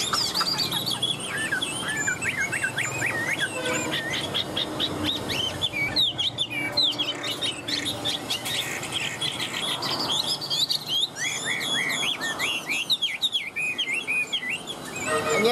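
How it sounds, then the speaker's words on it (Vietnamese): A caged 'three-yellow' hwamei songbird with yellow feet, bill and plumage and bright blue eyes sings continuously up close, pouring out varied rapid whistles and trills over a faint insect-like background buzz. "con chim này là con chim chân vàng mỏ vàng các bác nhá, lông vàng nhá, mắt xanh lét luôn các bác ạ, tam hoàng."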